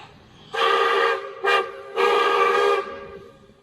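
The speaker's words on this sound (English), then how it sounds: "we're going to be watching the cockle train depart Victor Harbour." The Cockle Train departing Victor Harbor sounds its horn in three blasts, a long one, a short one, then another long one. The harmonic tone is loud and clear over quiet outdoor background.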